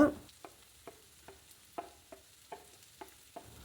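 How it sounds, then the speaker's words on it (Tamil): Carrots and beans are sautéed with onion in a pan: a quiet, low sizzle under about nine evenly spaced spatula scrapes and taps, close by, with no talking. "கேரட் பீன்ஸை நல்லா வதக்கி விட்டுருங்க."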